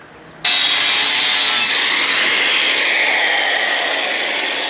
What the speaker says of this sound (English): just sharpening up the old knives before I stick them back in the baler